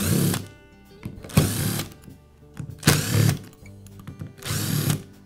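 Screws are driven out of a Dremel rotary tool housing with a power driver, four separate whirring bursts of the motor spinning up and stopping, close and loud, with quiet gaps between them.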